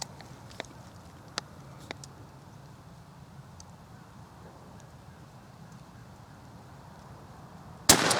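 A single loud shotgun blast from a 20 gauge firing a Remington Premier TSS turkey load, 1.5 ounces of number 7 shot, comes near the end after several seconds of quiet outdoor background with a few faint clicks.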